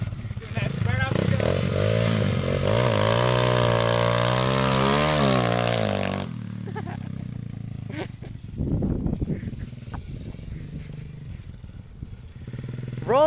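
A pit bike engine revs hard and holds a high, buzzing note, then drops off abruptly midway, with people talking and clattering around afterward.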